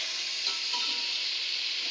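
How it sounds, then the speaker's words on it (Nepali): Vegetables sizzle and fry steadily in a pan for a creamy vegetable cheese pasta, a close, even hiss with faint stirring scrapes and no talk. "यसलाई 5 मिनट जति भुट्नु भयो भने पनि भइहाल्छ"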